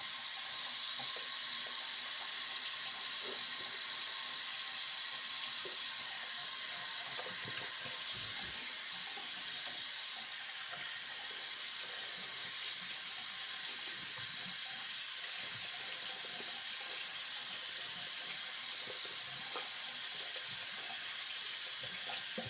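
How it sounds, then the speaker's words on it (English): A water tap runs steadily and loud as something is rinsed off in a sink, a continuous close splashing hiss with small splatters now and then and no talk. "Rinse off."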